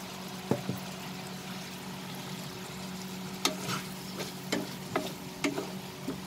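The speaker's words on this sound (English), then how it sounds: "Let's saute it." Chilli garlic prawns with fresh coriander stems sauté in a pan, a soft steady sizzle broken by occasional clicks and scrapes of stirring.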